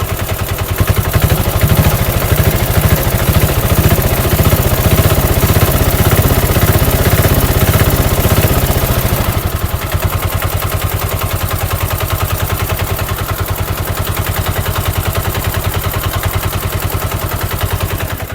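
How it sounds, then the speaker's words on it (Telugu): A Bajaj BS4 diesel auto rickshaw engine, fully rebored, roars loud and close with a fast rattling chug, then drops to a steadier, slightly softer idle partway through. "ఇది ఇంజన్ బీడింగ్ రేజ్ చేద్దాం."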